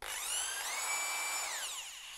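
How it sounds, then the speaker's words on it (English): A rotary hammer drilling in plain rotary mode without impact gives a steady, loud whining drill tone that shifts pitch midway and winds down at the end, heard close up with no talking. "this is a normal sound when drilling without impact."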